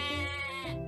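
A cartoon sheep lets out a short, close bleat with a wavering, harmonic tone, heard alone and lasting under a second in an animated children's farm-animal matching game.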